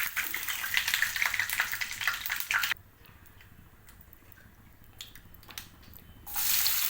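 Chana dal and urad dal fry in hot oil after cumin and mustard seeds, giving a steady close crackling sizzle that dips quieter midway and then swells again.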